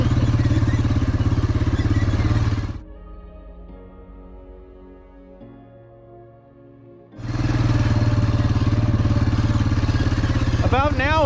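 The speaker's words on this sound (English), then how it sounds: "I didn't check the four-wheeler for how much gas it has" A four-wheeler ATV engine drones loudly and steadily while driving a hilly property trail, drops to a quieter idle-like hum for several seconds, then surges back to full loud running.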